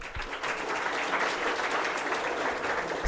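A conference audience at a Flutter developer event applauds a speaker after her session, a dense, even wash of clapping from many hands that stays loud and constant throughout.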